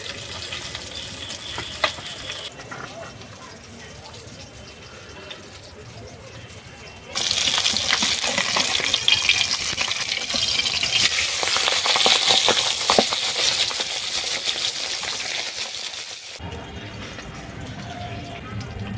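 Pabda fish frying in a pan makes a soft sizzle that jumps to a loud, dense crackling hiss midway before cutting off abruptly, with sparse clinks throughout.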